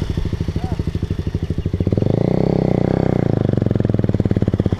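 An enduro motorcycle engine idles with a steady, near thumping pulse, then is throttled up into a louder, sustained rev that holds on before easing slightly, loud and close throughout.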